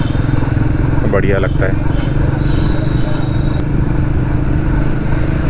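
Steady low engine drone of a motorcycle being ridden on a long highway trip, continuous and close, with someone briefly talking over it.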